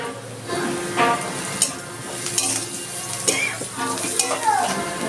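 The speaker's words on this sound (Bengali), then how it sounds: "আমি সেই পেঁয়াজ কুচিটা দিয়ে দিচ্ছি। আমি এর মধ্যে একটু হলুদ দিয়ে দিচ্ছি।" Chopped onion and turmeric fry in a pan for an onion masoor dal, giving a steady close sizzle with a few scrapes and clinks of a stirring utensil.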